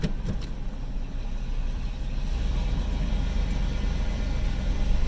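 A Jeep in second gear crawls along at low speed near Vernal, with a steady low engine rumble and drivetrain drone that holds constant and builds slightly toward the end, with no talk over it.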